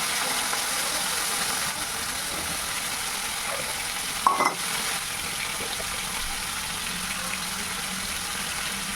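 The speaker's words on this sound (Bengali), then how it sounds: "এখানে আলুটাকে ভালো করে একদম ভেজে তুলতে হবে" Salted potatoes frying in a pan, a soft, steady hiss and sizzle throughout, with one brief stirring clatter midway.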